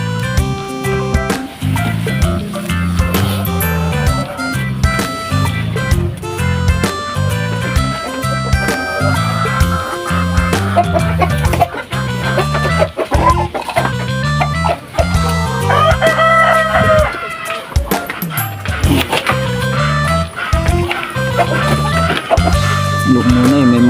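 Dense, loud farmyard sound with hens clucking and a rooster crowing amid steady background noise.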